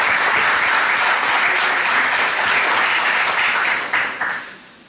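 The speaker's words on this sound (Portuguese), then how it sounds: "Uma salva de palmas, por favor." Dense applause from a large audience at a national climate change conference in Portugal, a steady wash of many hands clapping that holds, then tapers off near the end.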